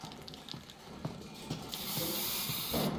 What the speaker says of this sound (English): She's gonna need a lot of spray paint for that.